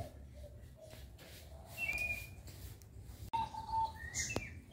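A caged Megalomen songbird at a breeding setup sings faint, intermittent whistled chirps and short trills over a low background hum, with a sharp click midway.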